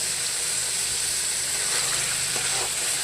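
Masala paste for bhetki fish kalia sizzles steadily in hot oil as it is sautéed, a continuous close hiss with faint scraping stirs toward the end.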